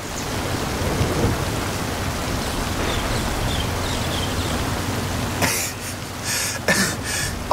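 Heavy rain and rolling thunder sweep across the coast during a storm in the racing game Forza Horizon 5, a dense, loud, continuous downpour with sharper crackling bursts toward the end and no talk.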